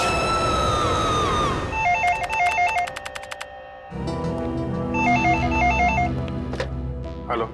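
An office telephone at a CID bureau rings loudly, its electronic bell repeating in sharp, rapid trilling bursts layered over a humming background, with no talking.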